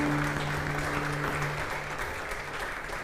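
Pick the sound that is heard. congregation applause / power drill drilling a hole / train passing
congregation applause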